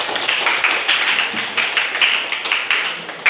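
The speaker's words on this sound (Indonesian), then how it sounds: "tepuk tangan dulu" A class of students applauds a classmate, a dense, lively clatter of many hands clapping steadily with slight rhythmic swells and no talking over it.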